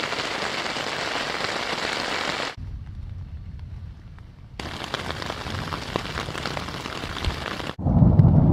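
Heavy rain pours steadily during a storm at a wilderness campsite in the Boundary Waters, loud and broadband, breaking off abruptly into quieter dripping before a second strong downpour returns.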